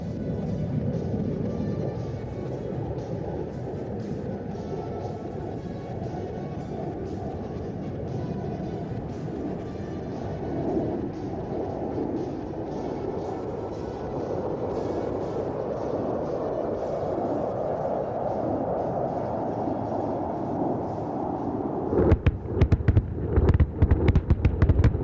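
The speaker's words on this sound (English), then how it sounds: "Wait for the massive explosions." A continuous low, rumbling roar of bomb blasts from an Indian Air Force airstrike at a firepower demonstration rolls on, heavy and distant, before a flurry of sharp crackling bursts near the end.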